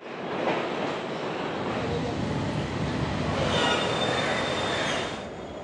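A train runs through a railway station with a continuous loud rumble and rolling wheel noise, a faint high wheel squeal coming in midway, and no distinct talk.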